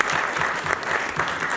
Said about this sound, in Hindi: भरपूर तालियां बजाएं